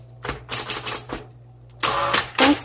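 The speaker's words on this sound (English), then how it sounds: "Very good typewriter." A 1960s Smith-Corona Coronet Automatic 12 electric typewriter types in quick bursts of sharp key strikes, with a pause and then more clacking, close and loud over a steady motor hum.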